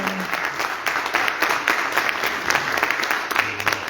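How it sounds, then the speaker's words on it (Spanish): An audience gives a man steady applause, a full, continuous clapping of many hands with a slight crowd murmur, lasting several seconds. "Un aplauso, señor Filiberto."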